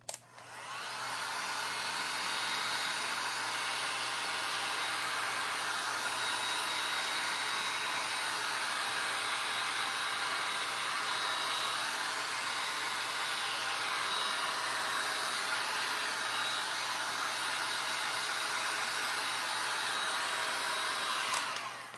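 A dryer blows a steady, loud, unbroken stream of air over freshly applied wet Venetian plaster on a linen-wrap wall finish, holding constant from start to finish with no talk.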